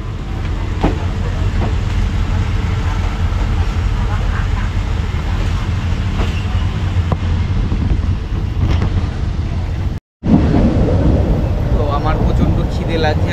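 A local train travels from Bangkok to Pattaya, Thailand, with a loud, steady rumble and rush of wind filling the carriage, broken by a brief drop-out before the noise resumes.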